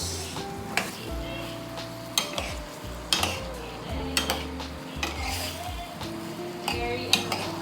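A spoon or spatula stirs bitter gourd and egg in a hot pan. The frying sizzles steadily underneath while sharp metal scrapes and clanks land at irregular intervals, close and fairly loud.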